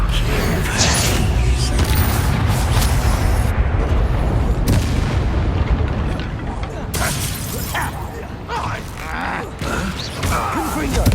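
Explosive Bombarda spell blasts in Hogwarts Legacy, heavy booming impacts with shattering debris and creaking mechanical sounds amid battle noise, loud and continuous, with talk over them.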